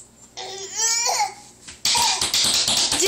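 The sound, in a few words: baby fake coughing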